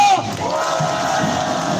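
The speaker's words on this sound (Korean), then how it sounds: "우리 젊은 전사들을 위해서 박수 한번 부탁드립니다." A crowd at a patriotic rally for veterans and military officers roars with shouts and cheers in one brief, loud, sustained burst.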